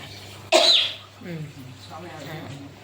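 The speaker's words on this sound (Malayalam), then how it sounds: "ചുമ വന്നു" A single sharp cough bursts out, followed by a short murmur of voices speaking quietly.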